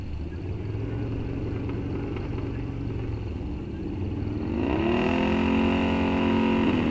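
Drag racing motorcycles at Rock Falls Raceway launch down the strip in an eliminator race, a steady engine drone swelling into a loud, rising rev as the bikes pull away.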